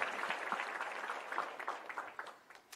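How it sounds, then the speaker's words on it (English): Faint, even applause at a live-streamed annual meeting and honoree recognition event, a soft texture of clapping that dips slightly toward the end. "You all deserve a round of applause. Let's give them one, albeit a virtual one."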